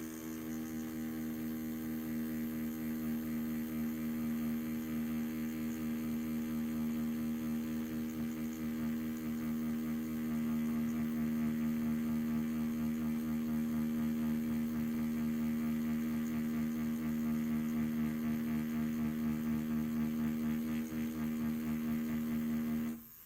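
A Mast Archer tattoo machine runs continuously while tattooing black ink, giving a steady, close, even electric buzz with a strong hum that holds unchanged throughout.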